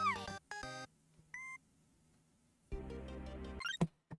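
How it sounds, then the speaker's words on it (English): A Discord notification beep from a tablet, a short chirp of rising tones standing apart amid bursts of game sound effects from a Touhou fan game. "I'm hearing the Discord beep coming from my tablet,"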